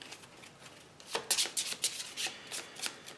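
A deck of cards for the solo board game Sylvion is shuffled up close after a quiet second, giving a series of crisp, rapid riffling bursts that flutter on and off.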